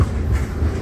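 A loaded ethanol freight train rumbles across a newly built bridge overhead, a brief, heavy low rumble with faint rail clatter.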